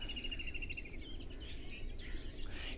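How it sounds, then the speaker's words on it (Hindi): Several small birds chirp and tweet in quick, overlapping bursts, faint and somewhat distant over a soft outdoor hum. "इतने सारी चिड़िया चिड़चिड़ी कर रहे हैं ना"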